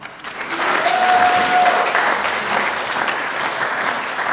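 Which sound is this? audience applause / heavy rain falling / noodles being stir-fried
audience applause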